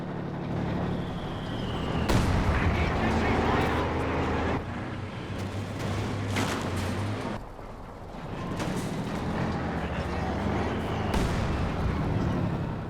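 Mortar blasts and gunfire in a Company of Heroes 2 match, with repeated booming impacts and rattling shots, a heavy mortar team among the sources, heard beneath steady commentary talk.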